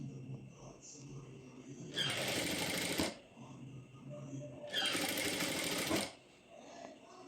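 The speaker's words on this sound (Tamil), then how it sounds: "இப்போது ஸ்ட்ரைட்டாக ஒரு ஸ்டிச் போட்டு கொண்டு வாங்க." A sewing machine runs a straight stitch in two bursts of rapid, loud needle clatter, each about a second long, separated by quiet handling noise, with soft speech in the background.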